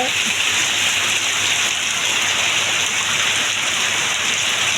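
A thick, constant roar of sudden heavy morning rainfall drumming on surfaces in a village, close and even from start to finish.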